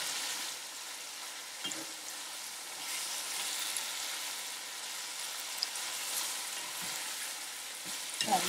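Chicken karahi fries over a high flame, giving a soft, even, continuous sizzle with a few faint stirring knocks, heard close but quiet with no voices.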